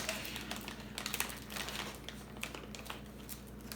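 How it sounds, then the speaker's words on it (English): Close, quiet crinkling and tapping of a plastic pack of cranberries being opened, with scattered small clicks and rustles and no talking. "I just got this pack of cranberries, so I'm going to open it up."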